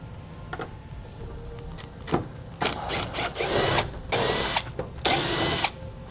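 Power drill backing torque screws out of the front fascia of a 2017 Chevrolet Equinox, heard as several short, loud whirring bursts separated by brief pauses and quieter handling noise, with no talking.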